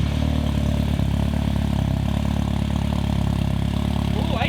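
A Mini engine with a new exhaust idles close by, a steady, loud, clattery rumble with no pauses, warmed up after startup.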